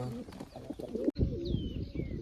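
A pigeon coos softly nearby in low, throaty bursts, with a sudden rustle or handling noise partway through.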